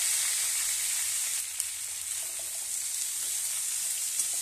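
Potato, green papaya, carrot, vegetable stalks and tomato fry together in a pan for Bengali shukto. The sizzle is a soft, steady hiss with a couple of faint pops, and no one speaks.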